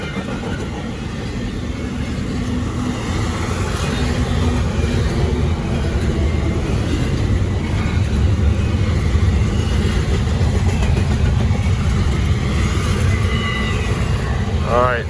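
A Norfolk Southern or CSX freight train passing outdoors, a steady loud rumble of rolling cars and wheels throughout, with a faint squeal near the end.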